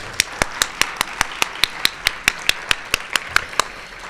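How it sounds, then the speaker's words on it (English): A single person claps at a steady, even pace, about eighteen sharp claps in quick succession, close and distinct against a quiet room at a graduate student celebration. "Let's give them all one more round of applause."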